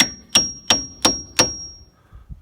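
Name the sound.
hammer whacking a wedge into a crack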